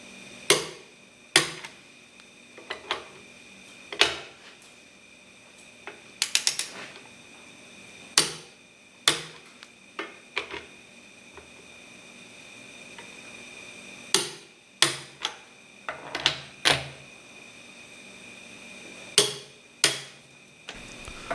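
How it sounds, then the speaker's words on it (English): Sharp metallic clicks from a torque wrench tightening Dana 60 carrier bolts in a workshop, sounding alone as single and double snaps at irregular intervals, each fading quickly in a quiet room. "I've now reset my torque wrench to 80 foot-pounds, and we're going to go back through and we're going to re-torque these"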